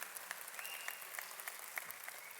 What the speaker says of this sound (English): there was a lady on that table just kept cheering for you